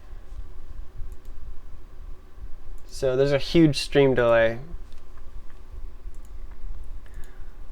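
Soft clicking of computer keyboard keys runs quietly through the background beneath someone speaking briefly in the middle.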